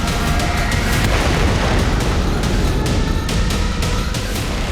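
A Russian missile strike on Kyiv brings a loud, continuous rumbling roar of blast noise with crackling bursts on top, dense and unbroken from start to finish.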